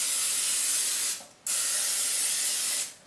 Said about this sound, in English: And you just spray down the pan.